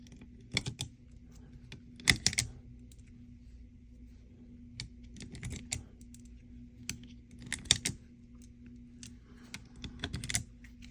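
Cartridges are pushed one by one into a Springfield Elite OSP magazine that is blocked to hold 10 rounds, giving quiet, sharp clicks at irregular intervals against a low, steady hum.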